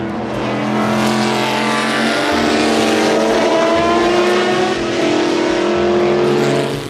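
A toy race car's engine sound effect, loud and sustained for about seven seconds, with steady revving harmonics and no talking.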